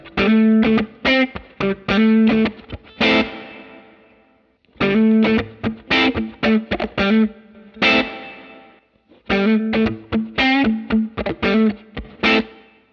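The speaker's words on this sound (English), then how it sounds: "Much bigger reverb just by pressing a button" An electric guitar played through a Line 6 Helix with a large reverb rings out in three loud phrases of plucked notes and chords, each trailing into a long, washing decay.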